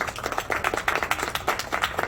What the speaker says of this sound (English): big round of applause to my Prince Charming, Dr. Shambhu Banik